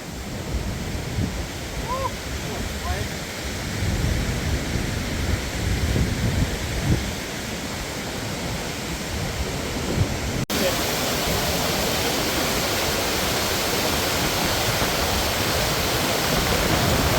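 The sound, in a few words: waterfall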